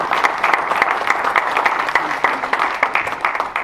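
An indoor crowd at a club partner evening applauds with steady, fairly dense clapping that carries through the whole moment at even loudness.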